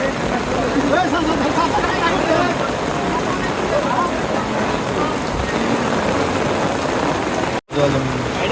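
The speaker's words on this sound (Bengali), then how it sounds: "দর্শক দেখতে পাচ্ছেন একদম বৃষ্টিময়" Steady heavy rain pours down at the outdoor Hazratpur cattle market during Qurbani season, a dense continuous hiss of drops on surfaces throughout, broken by one short dropout near the end.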